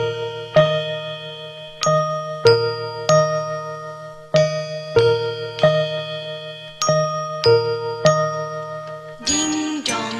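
A ringing bell strikes a steady series of clear ding-dong tones, each one ringing out before the next. A brighter jingle of tinkling comes in at the end.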